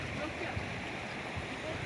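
A river flows steadily past a Himachal village, a continuous rushing wash of water with a cool breeze, heard close and constant while a person talks over it.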